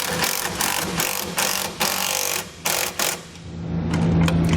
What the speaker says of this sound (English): Now we can go ahead and tighten down our clamps.